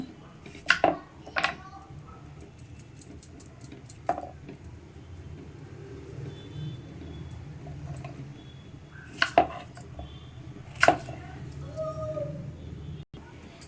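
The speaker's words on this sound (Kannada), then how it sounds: "ಈಗ ಸಣ್ಣ ಕಟ್ ಮಾಡ್ಕೊಳ್ಳೋಣ" Cucumber is cut with a knife for a Kannada-style cucumber hasi, heard as sparse, close knocks and clicks of the blade against a board with quiet pauses between them and soft handling noise.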